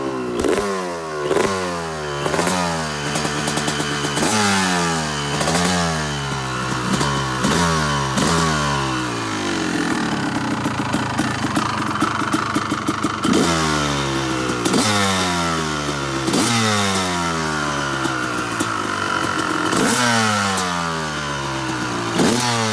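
A 250 CR two-stroke motorcycle with an RC valve revs hard in repeated rising blips, each climbing sharply then falling back, loud and close with crackly exhaust and a brief steadier stretch in the middle.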